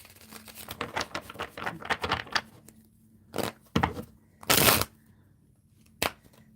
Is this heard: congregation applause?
no